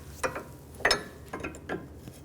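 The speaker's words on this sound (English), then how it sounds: "I'm going to loosen up this jam nut, use a 15/16 wrench or a 24mm" A wrench working loose the jam nut on a front outer tie rod of a 2006-2010 BMW 550i, giving four short metallic clicks and ratchet-like snaps spaced about half a second apart, close and fairly quiet.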